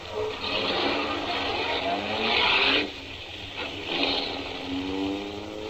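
A car pulls away from a red light in an old radio drama, its engine revving up with a slight tire squeal, loud and close, then easing into a steady running hum with no talk over it.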